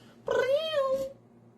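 A cat gives a single drawn-out meow lasting about a second, loud and close, followed by quiet.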